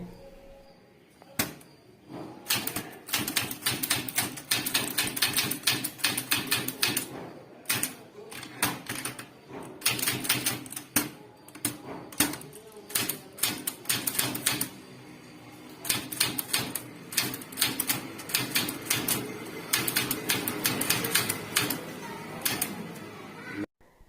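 A manual typewriter is used to type an English letter, giving rapid, sharp keystroke clacks in dense irregular bursts with short pauses between runs, close and crisp throughout.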